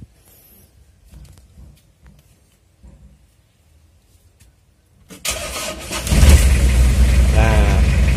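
A Mitsubishi L300 engine cranks briefly and catches on the first try, then settles into a loud, steady idle close by after several seconds of quiet handling noises.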